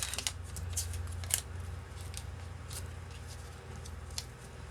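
Scissors cutting paper at a craft desk, a series of short crisp snips and rustles spread unevenly across the stretch, close and fairly quiet, with no talking.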